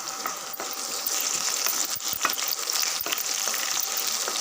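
Large onions and curry leaves sautéing in a pan for coriander rice, a constant close sizzle with metallic scrapes and taps of a stirring spoon scattered throughout.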